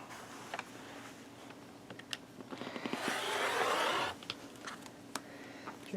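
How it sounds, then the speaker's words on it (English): A rotary cutter drawn along a ruler to trim the selvage off fabric, a quiet steady scraping swipe lasting about a second, framed by faint ticks and small handling noises. "And then I'm going to cut that selvage off."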